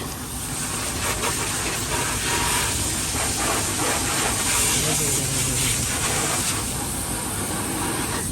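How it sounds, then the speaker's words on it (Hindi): A high-pressure water jet blasts mud off the underside of a car at a service station, producing a loud, continuous hissing spray with shifting, splashing bursts throughout and faint talk beneath it. "ये देखें काफ़ी प्रेशर है इसमें ना, पानी का बड़ा प्रेशर है।"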